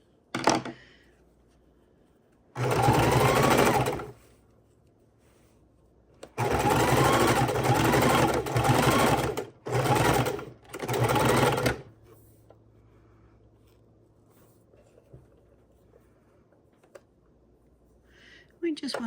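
A sewing machine stitches around the outer edge of a paper junk journal cover in loud, close bursts of rapid whirring, several runs broken by short pauses, with quiet stretches between.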